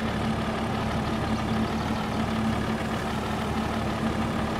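Steady idling tractor engine with a low, even rumble and a faint whining tone, running continuously and close by with no talk.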